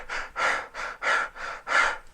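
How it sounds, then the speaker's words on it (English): Rapid, shallow breaths in and out, six quick audible puffs in a steady rhythm, close and alone, demonstrating panic-attack breathing. "when you have a panic attack, you breathe this way"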